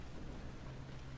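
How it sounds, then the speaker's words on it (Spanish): Steady, dense rain hisses in the Resident Evil Revelations 2 video game, a continuous even wash of falling drops with no voices. "¿Se fijan cómo la lluvia cae en la pantalla?"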